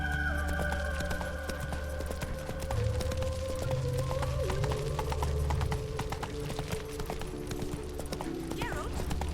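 A horse gallops in The Witcher 3 with a steady, close clip-clop of hooves, a whinny rising near the end, and people talking over the hoofbeats with music underneath.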